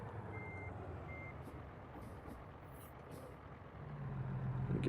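A truck in American Truck Simulator sounds two electronic reversing beeps early on, over a low, rumbling engine idle that grows louder toward the end.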